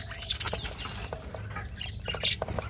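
Pet birds kept in clay pots flutter in quick bursts of wing flapping, close by, with a few short chirps scattered between.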